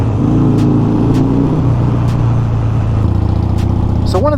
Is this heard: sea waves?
no